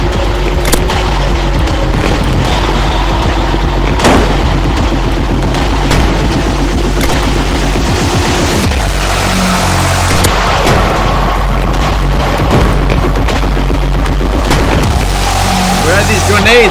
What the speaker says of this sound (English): Where are these grenades coming from?